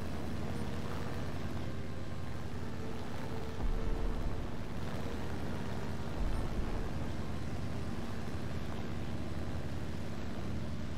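A jet-powered boat in War Thunder runs with a steady, dense engine roar and hiss that holds level throughout, swelling slightly twice, with no talk over it.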